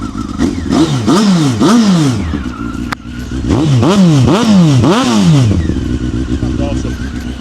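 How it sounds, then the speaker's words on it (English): A 23-year-old Honda CBR954RR sportbike with a Micron exhaust revs hard in repeated sweeping bursts, a deep grumbling engine note rising and falling close by, with a brief pause midway before another run of quick blips. "that Micron sounds amazing. It's got such a nice grumble."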